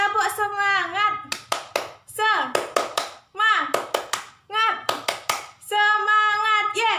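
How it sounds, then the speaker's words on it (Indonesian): A teacher demonstrates the rhythmic 'tepuk semangat' clapping routine in an elementary classroom: bursts of sharp, close hand claps alternate with a chanting voice in a quick patterned beat. "Ibu akan mencontohkan tepuk semangat terlebih dahulu"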